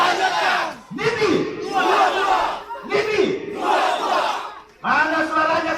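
A crowd at an Indonesian campaign rally answers with loud, repeated chanted shouts, several surges in a row separated by brief dips.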